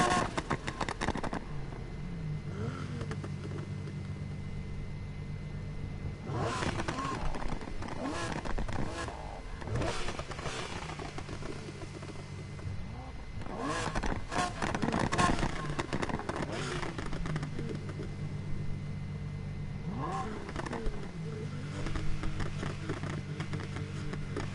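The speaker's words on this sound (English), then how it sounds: "I don't know if it sounds like a Porsche motor." Car engine resembling a Porsche motor in the Need for Speed Heat racing game, revving up and down in repeated surges with sharp bursts and crashes, heard under someone talking at times.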